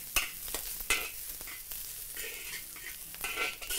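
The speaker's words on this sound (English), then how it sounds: "1 whole bulb of garlic sliced thinly, put them all in. Mix them around. Fry until you can smell it." Thinly sliced garlic from a whole bulb frying in a hot pan for Chinese chow mein, with a bright steady sizzle broken by several scraping stirs, close and fairly loud, no talking.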